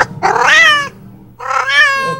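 A female cat in heat yowls twice, loud and close, each drawn-out wavering cry lasting under a second with a short pause between.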